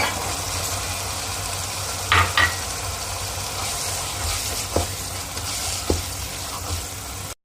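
Onion frying in a pan with garam masala and spices for tinda dal, a continuous soft sizzle with a few sharp clinks of a spoon against the pan, fairly close and steady, no voices.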